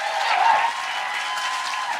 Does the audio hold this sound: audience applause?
yes